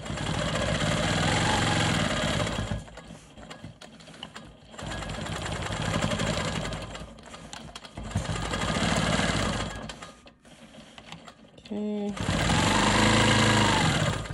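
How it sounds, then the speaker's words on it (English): Sewing machine quilting straight vertical and horizontal lines on a star quilt block, running in several loud sustained bursts separated by short pauses and brief handling sounds. "now I'm going to quilt my straight lines"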